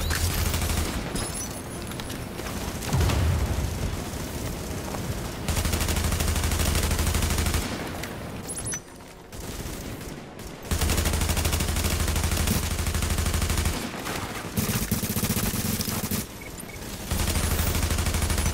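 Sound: gunfire in a video game

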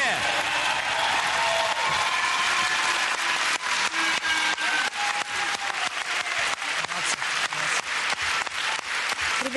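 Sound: audience applause after a figure skating performance

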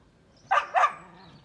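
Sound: dog barking

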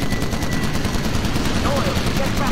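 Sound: tail gun machine gun fire, Call of Duty United Offensive video game

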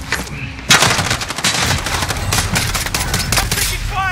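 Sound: gunfire in video game Call of Duty Modern Warfare

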